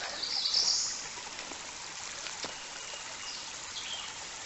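Soft, steady water flowing and trickling in a creek, with a brief chirp early on; faint and continuous, no talking.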